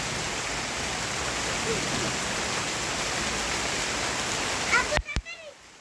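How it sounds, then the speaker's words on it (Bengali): Rain falls steadily on a rooftop garden, a dense even hiss of drops on plants and surfaces that holds for about five seconds before cutting off abruptly, followed by brief faint chirps. "এই যে বৃষ্টি হচ্ছে গাছে কোনো জায়গায় পানি দিতে হবে না এটা খুব ভালো একটা ব্যাপার বৃষ্টি ভালোই হচ্ছে"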